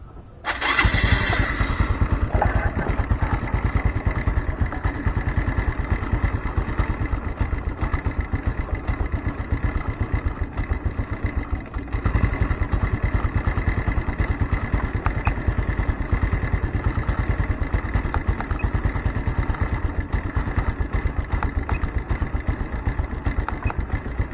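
Honda Supra X 125 Fi motorcycle, which has a fault with its MIL lamp blinking, starting with a brief crank and settling into a steady, close, buzzing single-cylinder idle that runs evenly throughout.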